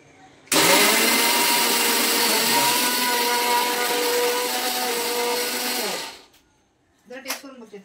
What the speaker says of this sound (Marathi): हे मिक्सरला लावते.